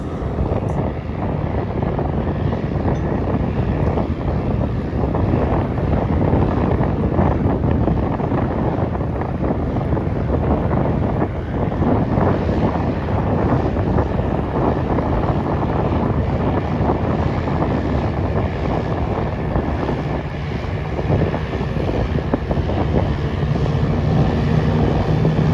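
An airboat ride after Hurricane Ian, with the constant loud roar of the engine and propeller mixed with heavy wind buffeting the microphone, steady throughout with no speech.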